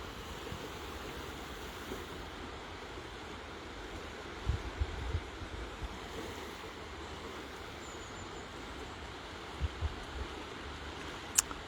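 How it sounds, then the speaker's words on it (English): Water flowing outdoors in a park, a soft continuous rush of moving water with light wind, quiet and steady, broken by a few faint bumps and a brief chirp near the end. "Just going to listen to the water here."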